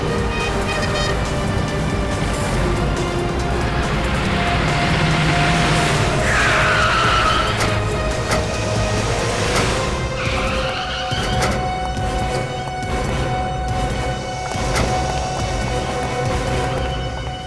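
A car skids hard through a U-turn in a chase scene, tires squealing loudly in a rising smear over a roaring engine, followed by more engine noise and scraping, with tense music beneath.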